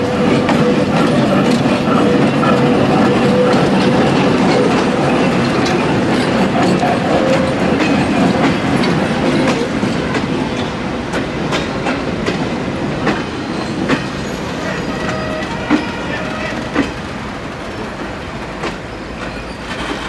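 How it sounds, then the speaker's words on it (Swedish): A train rumbles by at close range in Albania, steady heavy roar with rhythmic clacking of wheels over rail joints, gradually easing as it passes. "Det här kommer nästa tåg."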